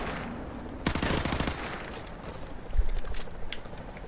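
Enemy gunfire in Call of Duty 4: Modern Warfare Remastered, a rapid burst of automatic shots near the one-second mark followed by a heavier thump, all over a dense background of game noise.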